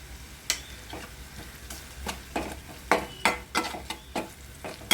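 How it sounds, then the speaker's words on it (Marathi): Special ghati spice masala frying in hot oil for aloo chana masala, a continuous sizzle broken by repeated sharp spoon scrapes and taps against the pan, close and fairly loud. "त्यानंतर आपला घाटी स्पेशल मसाला टाकायचा एक चमचा"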